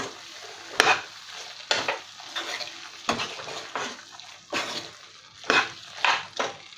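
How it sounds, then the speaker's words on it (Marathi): Sweet puran filling for puranpoli is stirred in a pan, with a spoon scraping in repeated strokes about once a second over a soft, steady sizzle, close and alone. "आपल्याला हे याच्यामध्ये व्यवस्थित मिक्स करून घ्यायचं आहे."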